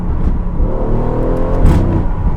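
A 503 hp Aston Martin Vantage burbles and rumbles at low speed, a deep steady exhaust note with a brief rise, loud and close.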